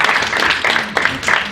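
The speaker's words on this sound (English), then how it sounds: "Right, round of applause." A room of attendees at a talent analytics talk gives a short burst of applause, moderately loud and mixed with faint voices, lasting just over a second.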